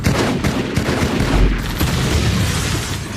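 Two bullet-hose guns dual-wielded in the video game Halo 2, a loud, dense stream of rapid gunfire mixed with booms and clatter filling the whole stretch, with no talking.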